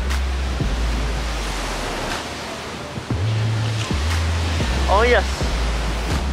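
Strong wind buffets the microphone at Batangas Bay, a loud continuous roar with low rumbling gusts, while a person exclaims briefly over it.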